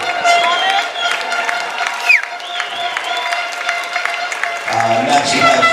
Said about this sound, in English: Let's have a round of applause for Ms.